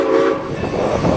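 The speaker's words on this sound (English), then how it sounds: "we head to J Tower to find Norfolk and Western 475 at the head end of the train" Norfolk and Western 475 steam locomotive at the head of a Strasburg Rail Road excursion train, a loud close whistle tone sounding briefly over rolling train noise.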